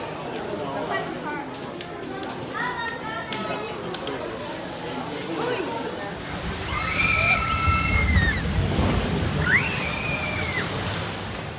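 Water churns and sloshes at the Splash Mountain log flume in Magic Kingdom, a steady wash of splashing under crowd chatter and nearby talk, swelling louder in the second half with a few high bird-like chirps.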